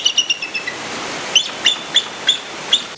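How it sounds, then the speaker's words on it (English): Bald eagle calls: a rapid series of thin, high chirping piping notes, several quick ones at first and then evenly spaced repeats, fairly close and loud against faint background hiss. "bald eagles actually sound like this"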